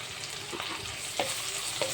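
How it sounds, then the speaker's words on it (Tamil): Anchovies, chillies and onions sauté in a pan for a spicy green sambal, with a steady soft sizzle and occasional louder stirring scrapes, close by and with no voices. "இவங்க எல்லாத்தையும் கொஞ்சம் வதக்கி எடுத்துக்கலாம்."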